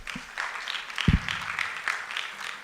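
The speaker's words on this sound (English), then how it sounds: "Let's give Ms. Oluwafisare a round of applause." An audience at a Playback Nigeria event against gender-based violence claps for a speaker, a fairly quiet, scattered patter of hands with a few sharper claps near the middle.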